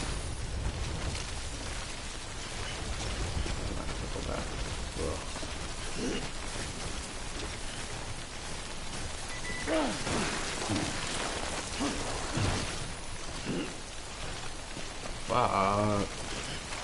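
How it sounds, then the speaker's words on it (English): Steady broadband rain hiss from the video game Death Stranding fills the whole stretch at moderate level, with people talking intermittently over it. "Especially because it's raining."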